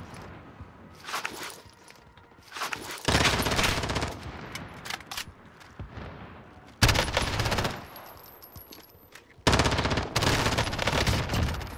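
LMG machine gun fire in Call of Duty Warzone, long loud sustained bursts of rapid automatic shots in several clusters, with footsteps and game noise between them.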